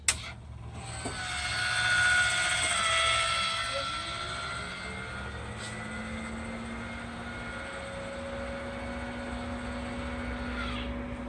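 A roof-mounted fan motor cooling the engine of a Hydramaster truckmount carpet cleaner hums steadily, its whirring tone holding at a constant pitch with a slight swell near the start, close and unaccompanied by talk.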